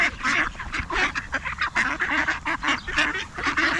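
A crowd of ducks at a park in New Zealand, being fed, quacking and honking in a dense, continuous chorus close by, with overlapping calls throughout and no clear speech.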